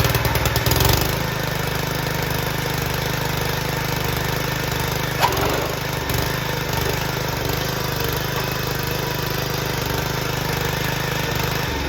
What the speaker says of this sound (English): give it a nice light pull. Once the machine starts